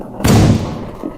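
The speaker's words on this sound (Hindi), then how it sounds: "ये पटाखे कौन बजा रहा है?" A single firecracker bursts close by during Diwali, a sharp loud thud that decays over about a third of a second, followed by quieter room noise with faint voices.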